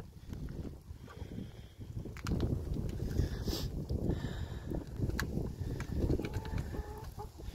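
Hens in a backyard coop cluck and murmur steadily, with a few louder calls rising above the close, continuous flock chatter.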